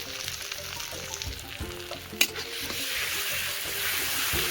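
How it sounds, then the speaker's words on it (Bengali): Spices and ground turmeric and chilli sizzling in a hot pan for a vegetarian dish while being stirred, a soft steady frying hiss with scraping stir strokes and one sharp clink partway through. "একটু নাড়িয়ে নিব।"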